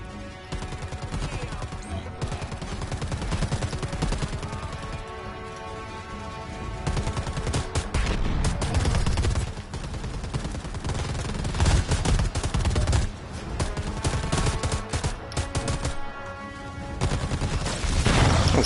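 Dense, relentless bursts of gunfire and automatic weapon fire in the shooter game Predator: Hunting Grounds, loud and continuous throughout with a player's voice talking over the shooting.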